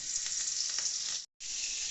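Loud, steady sizzling of tiger prawns coated in salt, turmeric and Kashmiri chili powder frying in a hot wok, broken by a brief moment of silence before the hissing resumes.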